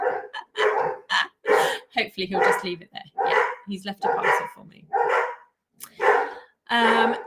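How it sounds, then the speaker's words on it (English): Dogs bark at someone at the front door, several sharp barks and yips scattered through the clip, mixed in with and partly under close conversational speech. "That's why the dogs are barking."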